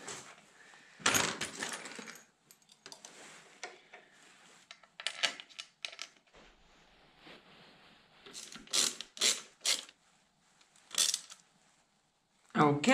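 Metal bolts being fitted and tightened on a Yamaha MT 125 motorcycle under repair, giving scattered ratcheting clicks, clinks and short mechanical rattles in irregular bursts, close by in a quiet workshop.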